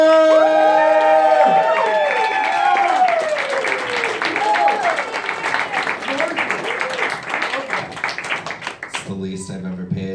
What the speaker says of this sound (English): Please start clapping right now for Eric